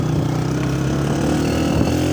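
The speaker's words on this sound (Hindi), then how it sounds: "मोटरसाइकिल का जो है ना साउंड भी आप देख सकते हैं।" A motorcycle engine runs on a dangerous mountain road bend between Balakot and Naran, a steady mid-pitched drone that holds close and even throughout, with no talk over it.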